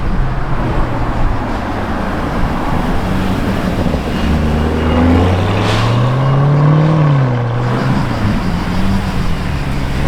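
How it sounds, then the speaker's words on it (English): A bright Lamborghini Urus drives past on a road amid steady traffic noise, its engine tone rising and falling as it nears and goes by, heard over continuous road rumble. "very bright Urus incoming"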